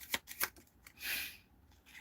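Tarot cards shuffled up close: two or three quick riffling snaps, then a longer brushing sweep of the deck, with no voices.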